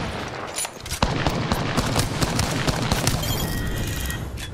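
Rapid automatic gunfire in Apex Legends, with a Wingman in play: a sharp opening shot gives way to a dense, sustained stream of close, loud shots and impacts.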